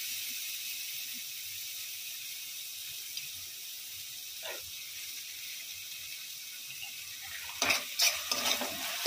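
Soy sauce and chilli sauce get stirred into food frying in a pan, a steady hiss and sizzle with faint scraping and a few louder clatters near the end, no talking.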